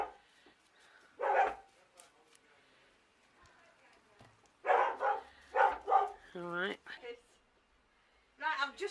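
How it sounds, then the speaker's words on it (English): Dogs bark indoors in several short loud bursts, with a quieter gap between an early bark and a later cluster of barks, over a faint room background. "The dogs have heard her."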